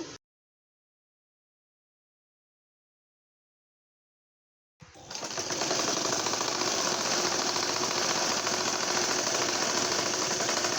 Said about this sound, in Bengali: এভাবে আমি দুটি ফিতা সেলাই করে নিব